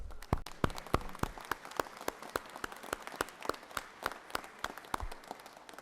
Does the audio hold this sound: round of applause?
yes